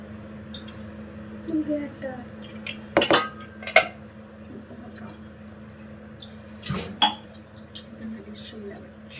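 Dishes and utensils clink and clatter close by in a home kitchen, with scattered light knocks and two sharp metallic clanks amid faint background sounds.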